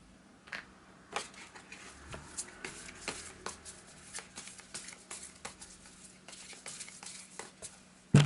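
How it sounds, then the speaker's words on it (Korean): Tarot cards shuffled by hand, a run of soft, quick papery flicks and riffles coming close and fairly quiet, with a steady low hum behind them and no voice. "제가 한번 우리 여러분들에 대한 조언 카드를 한번 뽑아보도록 할게요."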